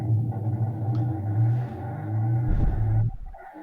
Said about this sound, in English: he's got it hooked up to a fan, he's got barcodes on the fan blades